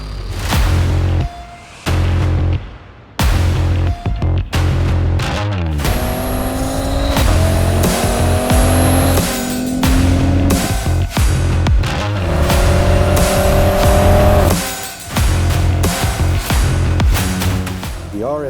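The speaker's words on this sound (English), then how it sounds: "The RSQ3 has a 400 horsepower 5-cylinder engine." A 400-horsepower five-cylinder Audi RS Q3 SUV driving in Tuscany, loud and close, revving hard through rising gear pulls with brief breaks between them and a whooshing pass near the end.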